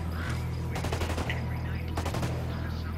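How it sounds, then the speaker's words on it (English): Heavy bursts of automatic gunfire as Sicario enemies shoot at an emitter in Ghost Recon Wildlands, rapid cracks layered over a low steady hum, with two denser volleys standing out. "Those Sicarios are shooting the hell out of this emitter."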